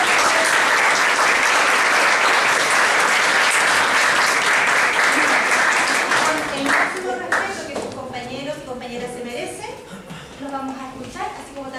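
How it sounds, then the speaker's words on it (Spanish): Loud applause from an audience at a logistics academic session, dense clapping that holds for about six seconds and then thins out as a voice starts talking over the last scattered claps. "Yo les pido que antes de que partan les brindemos un aplauso"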